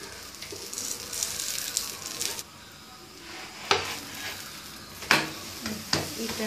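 Aloo paratha frying in ghee on a pan, a soft continuous sizzle with intermittent louder crackling bursts and spatula scrapes, fairly quiet and close.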